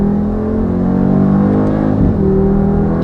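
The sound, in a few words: new Mercedes G-wagen engine accelerating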